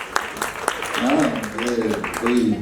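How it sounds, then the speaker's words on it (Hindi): Audience applause for a singer at an event announcement, a steady crowd clapping texture running beneath someone talking loudly over it. "जोरदार ताली बजनी चाहिए।"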